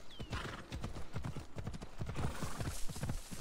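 Horse hooves clip-clop in Assassin's Creed Odyssey: a quick, steady trotting rhythm of hoofbeats, close and prominent, with a brief whinny near the start and no talk over it.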